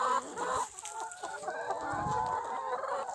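Purebred chickens cluck and chatter close by, a quick run of short calls with a brief crowing note, no talking over them.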